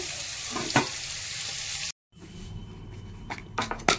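Chopped vegetables fry in oil in a pan for a home dinner. A steady close sizzle carries on with stirring scrapes, drops out for a moment, then comes back with a few sharper clatters.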